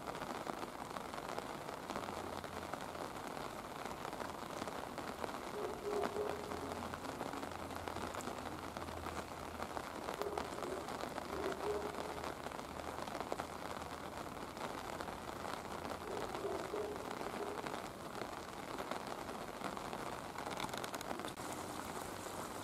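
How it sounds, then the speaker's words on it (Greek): Rain falls on a city street just after snow, a faint, even hiss of drops on the pavement that continues steadily for over twenty seconds with no talking. "Πριν 2 ώρες χιόνιζε. Τώρα βρέχει."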